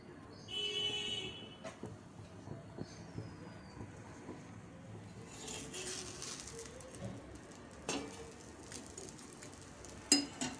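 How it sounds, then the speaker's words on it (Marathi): A green mung bean dosa fries in oil on a pan, giving a faint, steady crackling sizzle with occasional louder spits and pops, heard alone at low volume. "तर हे बघा साईडने थोडं आपण तेल टाकून देऊया आणि एका साईडने छान रेडी करून घेऊया, खरपूस भाजून घेऊया आपला डोसा"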